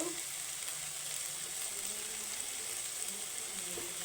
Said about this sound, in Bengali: এরপর আমি কাজু কিশমিশ পোস্ত আর চারমগজ বাটাটা দিয়ে দেব।